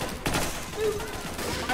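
Bursts of gunfire during a rebel raid in Garry's Mod HL2RP, faint and rapid, mixed with game noise and occasional voices.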